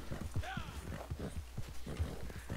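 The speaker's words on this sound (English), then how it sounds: "my horse just jumped" Steady clip-clop of horse hooves trotting in Red Dead Online, with a brief whinny early on, under an ongoing game soundscape.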